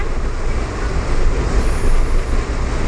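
A train at a railway station gives off a continuous heavy rumble with broad roaring noise, loud and close, rising and falling slightly throughout.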